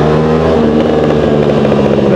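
An Aprilia RS457 motorcycle engine revs loudly and close, a dense throbbing drone with shifting harmonics that stays strong and steady throughout.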